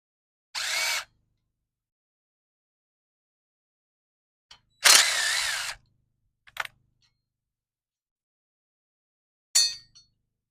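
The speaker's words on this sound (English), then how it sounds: "come back with the impact." An impact wrench removes motorcycle sprocket bolts in four short, loud, close bursts of rattling whir, separated by silent pauses, with the last burst the briefest. No one speaks.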